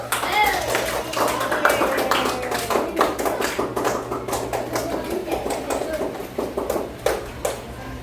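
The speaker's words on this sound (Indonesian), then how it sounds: "silakan mari kita sama-sama tepuk tangan dulu" Students in a class clap their hands together, an uneven, rhythmic patter of claps at close range with voices talking and calling out over it throughout.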